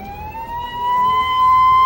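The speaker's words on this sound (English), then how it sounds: "Ambulance sirens announce the casualties." An ambulance siren wails close and loud in a steady rising tone, growing louder, on a city street in Detroit.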